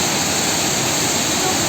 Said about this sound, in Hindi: और अभी ये जो झरना है, ये झरना है बेहतरीन झरना।